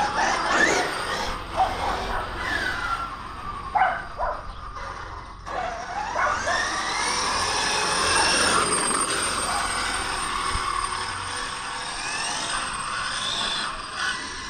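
A Smithmaster SCR Pro RC car's electric motor spins up on its first test run, a rising and falling whine with sharp pitch sweeps, loud and close, continuing steadily through the clip.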